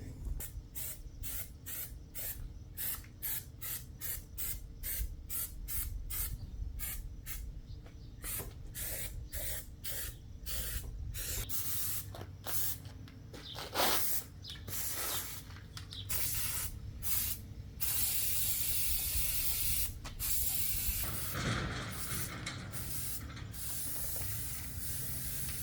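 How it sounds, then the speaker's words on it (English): Aerosol undercoating sprayed onto the frame of a 2005 Ford F250 Super Duty in bursts, a steady loud hiss broken by many short sharp pauses as the nozzle is pressed and released, with faint clicks of the can between. "I'm going to go ahead and start spraying the undercoating"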